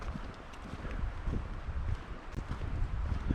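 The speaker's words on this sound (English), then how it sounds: "the sound of the wind in the trees is awesome" Wind gusts through trees beside the Middle Fork of the Snoqualmie River near North Bend, Washington, a steady, broad rushing with soft, uneven swells and some low rumble from the wind.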